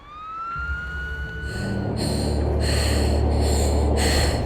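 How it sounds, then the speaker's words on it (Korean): A siren wails with a rising tone, then pulses in repeated bursts as a low rumble builds underneath, growing steadily louder. "멀리서 울리는 사이렌 소리"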